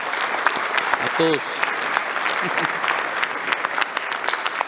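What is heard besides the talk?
audience applause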